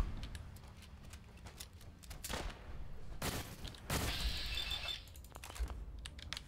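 Gunfire from the video game Fallout 4: several sharp broadband bursts, including a heavier volley near the middle, over continuous game ambience.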